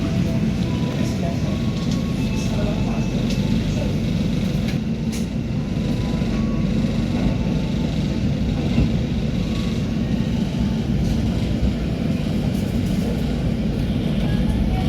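The Pangrango economy and executive train pulls out of Sukabumi station on the Bogor–Sukabumi line, a loud, steady rumble of wheels and engine running throughout, with a voice speaking over it.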